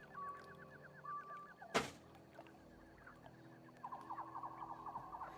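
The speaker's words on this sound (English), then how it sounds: "I can hear a couple of ducks right now" Ducks call in a swamp, with short repeated quacking bursts at moderate distance, one sharp close knock partway through, and a livelier run of rapid calls near the end.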